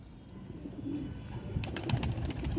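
High-flying pigeons kept by a hobbyist give soft, low cooing that carries on steadily under a rising background, with a run of sharp clicks and rustles toward the end and no voices.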